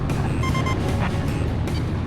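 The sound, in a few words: jet engine in a video game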